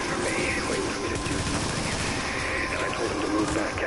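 Rapid gunfire from a PS4 video game rattles on without a break, dense bursts that sound like automatic weapons mixed with battle noise.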